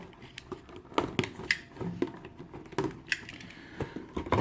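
Taped plastic blister pack holding an anime figure being pulled and peeled open, with crinkly cracks, scrapes and sharp clicks coming close and moderately loud, in irregular bursts with no talk.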